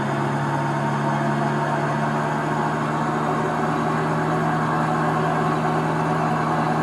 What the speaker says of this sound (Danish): Du kan godt høre, det er en god gammeldags diesel.